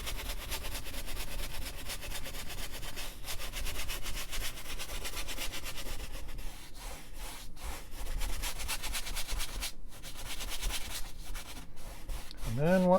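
A paintbrush scrubs paint onto dry canvas during an Italian scene demonstration, producing a close, continuous raspy scratching with uneven strokes and brief pauses, alone without talk.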